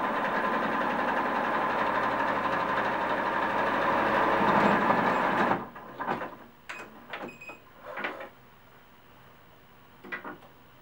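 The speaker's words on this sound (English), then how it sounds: "you can sew close to the edge just to give a nice finish to that hem" Home sewing machine stitching close to the edge of a cloth doll's skirt hem, a steady whirring run for about five seconds that stops abruptly, followed by a few short handling clicks and rustles.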